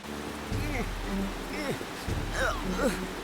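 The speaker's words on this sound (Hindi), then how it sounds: "बारिश कुछ ज्यादा ही तेज हो रही है।" Heavy storm rain pours in an animated train cartoon, a steady hiss running under voices and tonal cartoon sounds throughout.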